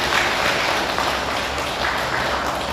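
Big round of applause from the congregation at a Korean Buddhist temple gathering, a continuous, loud, dense clapping that holds steady throughout with no speech on top.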